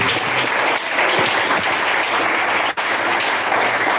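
Steady, loud clapping from a church congregation praising God, a continuous dense wash of hands with a brief dip before it carries on.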